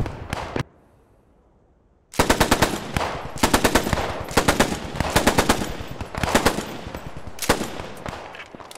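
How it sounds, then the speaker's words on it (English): A machine gun fires in the World War II shooter Post Scriptum. One loud short burst is followed by a pause, then repeated rapid bursts of gunfire at close range. "Yo escuchando un MG por aquí"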